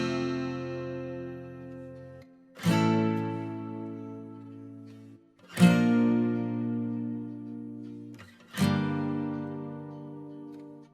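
Acoustic guitar with chorus and reverb playing three long, ringing downbeat strums about three seconds apart, each chord sustaining and slowly fading before the next.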